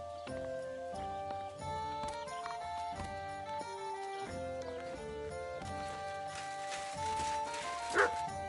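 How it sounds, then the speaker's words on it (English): A dog in the video game Kingdom Come: Deliverance II gives a few sharp barks and soft whimpers over a tonal game music bed, moderately quiet and intermittent. "Aye, aye, you silly doggy."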